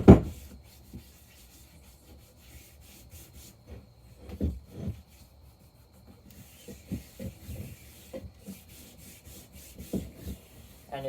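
Hand rubbing oil firmly into a wooden axe handle on a 3 lb wedge banger: soft, irregular scraping and rubbing strokes with scattered small knocks, fairly quiet and close, no talk.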